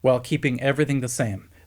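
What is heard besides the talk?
No everyday noises stand out.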